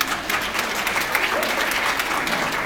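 Audience at a district legislative dinner breaking into applause, a thick continuous clatter of many hands, loud and even for the full stretch.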